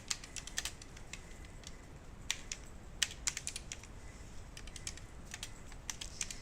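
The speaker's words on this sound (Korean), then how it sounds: "포지션을 홈키를 눌러서" Computer keyboard keys pressed during animation editing work, a quiet run of crisp, irregular clicks and taps close by, some in quick bursts, with no speech.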